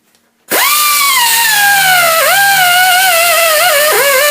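A handheld power tool with a 240-grit sanding attachment whines up sharply and works on a Honda VF750F motorcycle engine, pitch dipping and recovering several times as it bears down, loud and close.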